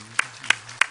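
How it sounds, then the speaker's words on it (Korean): A congregation claps during a Sunday church service, with three sharp, evenly spaced claps about a third of a second apart. Each lands as a bright, close slap over a low background hum. "우리 하나님 아버지께 다시 한번 영광의 박수 올리겠습니다"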